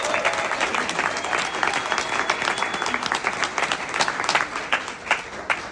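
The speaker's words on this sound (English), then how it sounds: "give a big round of applause for yourself" A crowd at Fingerboard Con, a fingerboarding convention, claps and cheers in a sustained, dense round of applause lasting several seconds, close and lively.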